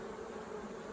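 Honey bees buzz inside a beehive, a dense steady drone held close and fairly quiet with no pauses and no voices.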